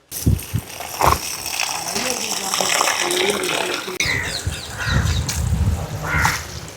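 Tap water gushing over figs being washed outdoors, with splashing and clattering as the fruit is rinsed, while people talk over it and birds call nearby.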